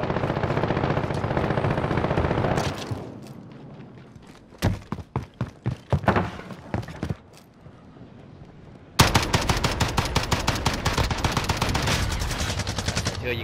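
Gunfire in the video game Call of Duty: Modern Warfare: loud bursts of automatic weapon fire, then a string of separate close shots, then a long sustained rapid volley, all over a heavy rumbling background.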